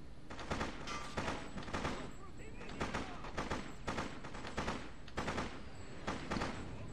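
Repeated bursts of automatic gunfire and shots from the video game Freedom Fighters, loud and dense in rapid clusters throughout a city firefight, with faint background voices.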